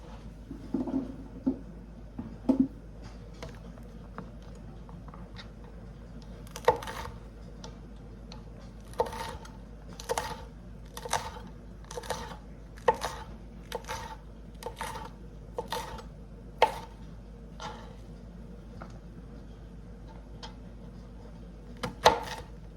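A knife chops banana peppers for canning, making faint, quiet cutting taps and knocks on a board, at first sparse and then settling into an irregular rhythm, over a low background hum.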